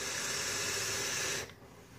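A homemade 3S LiPo PWM vape box giving off a steady, loud hissing hum that runs unbroken for about a second and a half, then cuts off abruptly into quiet background.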